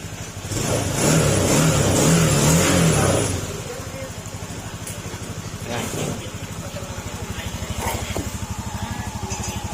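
A freshly repaired car engine, one that had blown two days after an earlier repair, revs hard for about three seconds and then settles into a steady, rhythmic idle, with a voice talking over it.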